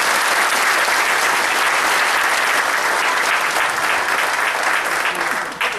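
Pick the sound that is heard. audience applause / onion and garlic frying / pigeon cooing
audience applause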